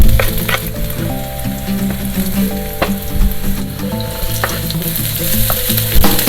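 Garlic and onions fry loudly in a pan, a close, steady crackling sizzle with occasional stirring knocks, while background music plays throughout and no one speaks.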